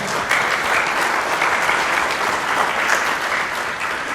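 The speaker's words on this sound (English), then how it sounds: "let's give our sponsors a big round of applause" A crowd at a queen pageant claps steadily in a sustained round of applause, dense and even throughout.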